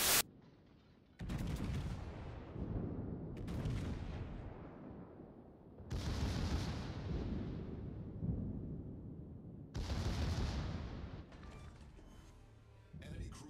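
Naval gunfire and explosions as a warship sinks in the World of Warships video game, with heavy booming salvos in several loud bursts and rumbling crashes filling the whole stretch.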